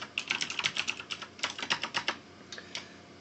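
Computer keyboard clattering close by as code is typed, rapid uneven bursts of key clicks with a short pause in the middle before more keystrokes, no speech.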